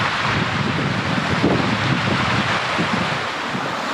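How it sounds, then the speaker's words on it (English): A stream flows through and under rocks, giving a steady, loud broadband wash of water with gusty wind noise on the microphone and no pauses. "the stream splits in two just under these rocks here"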